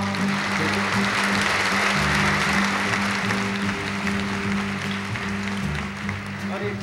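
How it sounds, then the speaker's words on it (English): Audience applause at a televised summer folk concert fills the room as a steady, dense wash of clapping from a large crowd, lasting throughout with a low murmur of voices underneath. "What are you clapping for?"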